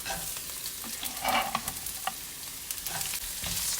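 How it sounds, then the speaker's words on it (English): Green chili, carrot and onions stir-fried over a high flame for a keto pad thai, giving a steady close sizzle with scraping stirs and brief clatters throughout, no voices. "Stir it on a high flame."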